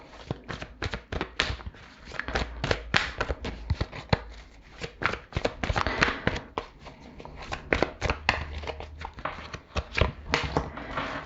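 Tarot cards shuffled and handled close up, with a steady run of quick, crisp slaps and riffles and no voice over them.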